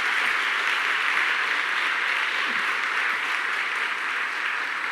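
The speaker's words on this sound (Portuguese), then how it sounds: "aplauda bem forte o nome de Jesus" A church congregation applauds loudly and steadily for the name of Jesus, a dense, sustained wash of many clapping hands with no break from start to finish.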